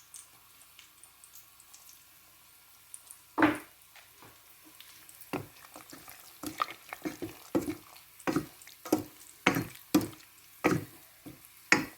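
Spoon stirring chicken curry in a pan, scraping clinks and wet mixing noises coming faster after a quiet start, close by with no talking.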